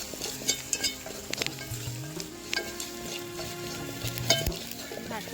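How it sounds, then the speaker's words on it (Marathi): Spiced dal and vegetable mixture with salt, chili masala and turmeric roasting in a pan, a steady sizzle broken by scraping stirs and light clinks of the utensil against the pan. "भाजून घेतलं."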